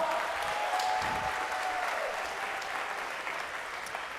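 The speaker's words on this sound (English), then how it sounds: "I just want to hear everybody clap." A crowd claps steadily, a dense wash of applause that holds for several seconds and slowly eases off without stopping.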